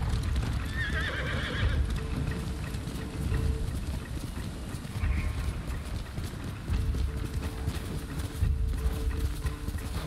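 Horse hooves clip-clop in a steady galloping rhythm with a loud neigh near the start, from a mount in the samurai video game Ghost of Tsushima, carrying on over a continuous wash of ambient game sound.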